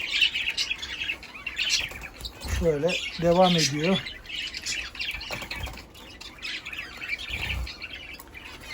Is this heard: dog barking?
no